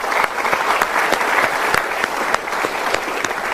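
A studio audience at a motivational talk breaks into steady, dense applause, loud and continuous throughout with no voices over it.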